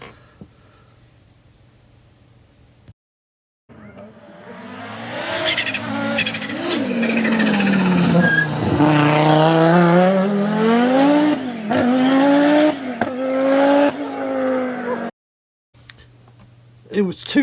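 A Quattro car's engine roars up and rises in pitch for about ten seconds, loud and close, with possible tire squeal, then drops away to near-silence.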